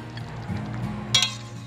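Mutton with spices stirred in a pan, a low frying sizzle under a few light clinks of a metal spoon against the pan, with one brighter scrape near the end.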